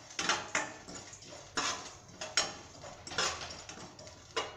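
Whole spices, fennel among them, are dry-roasted in a pan with a spoon scraping and clinking against the metal in about six quick stirring strokes, close and fairly quiet, with no voices.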